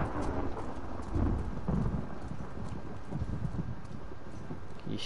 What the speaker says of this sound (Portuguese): Que chuva, meu irmão.